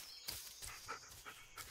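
A dog pants in quick rhythmic breaths inside the Blair Witch video game, a series of short airy bursts close to the listener with no talking over them.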